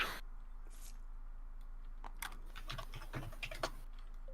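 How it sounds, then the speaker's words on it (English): Someone types on a computer keyboard close by, light irregular key clicks in short bursts over a steady low hum, with no talking. "Yeah, I'm just typing."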